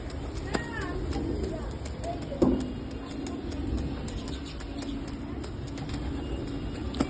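Pigeons coo softly in a loft, faint low murmuring calls under steady background noise, with a brief knock partway through and a few thin chirps.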